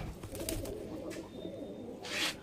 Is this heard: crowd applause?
no